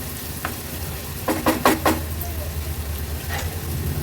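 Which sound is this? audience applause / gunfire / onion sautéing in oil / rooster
onion sautéing in oil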